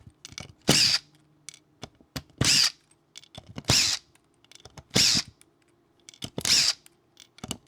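A driver fitted with a Vessel Giza bit turns Japanese screws in five loud, close bursts of grinding, slipping clatter, each separated by quiet pauses with faint handling noise.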